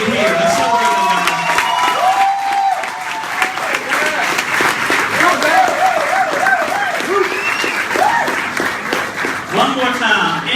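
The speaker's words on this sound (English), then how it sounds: "Big round of applause." Loud crowd applause and cheering for international executives at a Barbados travel company launch event, with whoops and shouts rising over steady clapping throughout.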